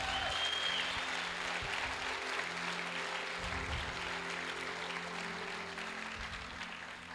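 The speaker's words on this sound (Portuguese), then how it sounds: "Você pode aplaudir ao Senhor?" Church congregation applauding during a sermon, a steady wash of clapping from a crowd that gradually fades toward the end, with no talk over it.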